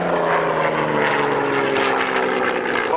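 Propeller aeroplane coming in to land at an airshow, a loud, steady engine drone with a rough, buzzing propeller throb, filling the whole moment without voices.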